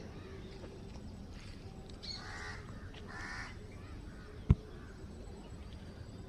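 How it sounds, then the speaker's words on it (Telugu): Crows cawing in the morning among trees, a few faint, scattered calls at a distance over a steady low background hum, with one sharp click near the end. "కాకులు, పిట్టలు అన్నీ అరుస్తుంటాయి"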